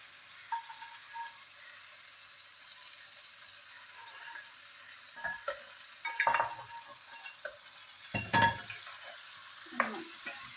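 Quiet kitchen background with a few scraping, sloshing stirs of a spatula mixing eggs into masala in a pan, growing louder toward the end.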